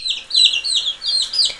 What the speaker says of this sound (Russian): Ну вот, запустила цыплят.